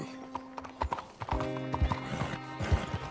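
Horse hooves clip-clop in an uneven rhythm in the video game Red Dead Redemption 2, with a steady tonal hum of game music underneath.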